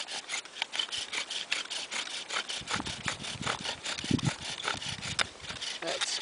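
Rhythmic back-and-forth rubbing of wood on wood from a primitive bow drill fire set, a rasping, screeching, sawing scrape repeated in quick strokes, fairly quiet and close.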